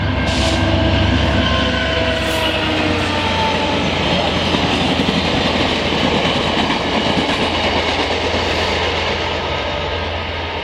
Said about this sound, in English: Quebec City train.